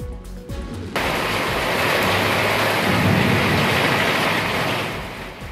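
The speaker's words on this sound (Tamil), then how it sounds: "சேலம் மாவட்டம் ஏற்காட்டில் இரவு 1 மணி நேரத்திற்கு மேலாக பலத்த காற்றுடன் கனமழை பெய்தது." Heavy rain driven by strong wind at night in Yercaud, Salem district, a loud dense roar that swells in after a brief quieter opening and holds steady without letup.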